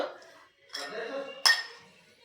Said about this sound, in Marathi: तर हे छानपैकी मिक्स करून घेऊयात मस्त